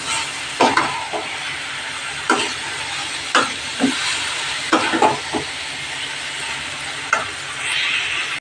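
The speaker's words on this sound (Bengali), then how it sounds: "এবার আবার ভালো করে কষিয়ে নেব।" Prawn and banana flower mixture sautéing in a pan, with a steady sizzle broken by repeated scraping stir strokes at irregular intervals, close and moderately loud.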